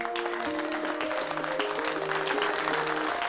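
Spectators at a fort-building contest clap for the participants, a moderate wash of applause blended with sustained music tones underneath.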